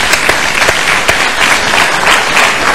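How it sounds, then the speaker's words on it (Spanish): A television talk show studio audience breaks into loud, dense applause, sustained and close throughout with no speech over it. "Aplaudidísimo."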